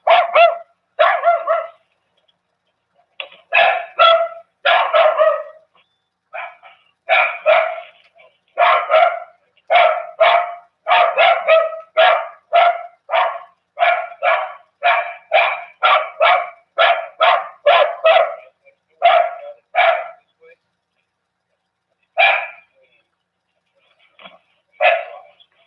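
Several dogs bark loudly and close up in rapid, repeated volleys over about twenty-five seconds, with brief pauses between bursts.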